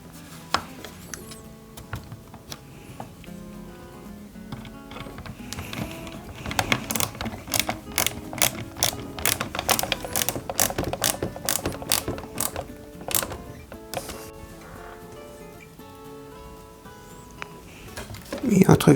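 Small screws are driven into the rear of a Ghostbusters Ecto-1 model kit by hand, with a close run of rapid ratcheting clicks. Someone speaks in French before and around the clicking, with a louder knock at the end.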